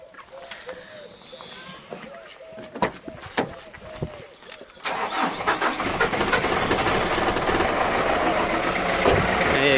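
Ford Ranger, Courier, B2500 or Bravo diesel engine cranks after fuel-line bleeding, with sharp clicks and uneven turning-over, then catches around midway and settles into a steady, loud, rough idle that continues to the end.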